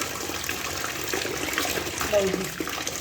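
Water runs and splashes steadily while kitchen cloths are rinsed by hand to wash out detergent, a continuous close gush with a few small slosh changes and no talk.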